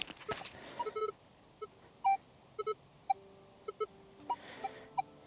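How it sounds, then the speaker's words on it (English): A Minelab Equinox 800 or Manticore metal detector swept over a heap of iron nails during relic hunting in Tasmania gives short, varied electronic beeps and tones, scattered and irregular, with soft rustling between them. "Once more with the detector."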